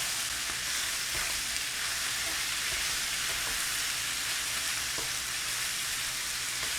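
Steady, dense sizzling of thinly sliced pork frying and being stirred in a hot pan, close up and continuous with occasional scraping, no voices.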